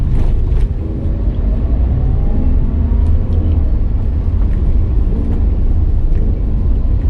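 Car interior during a drive through Bonifacio Global City: a loud, steady low engine and road rumble with faint tire noise, continuous and close, no talking.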